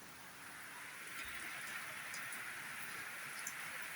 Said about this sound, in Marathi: तर छानपैकी झिमझिम झिमझिम पाऊस पडत आहे.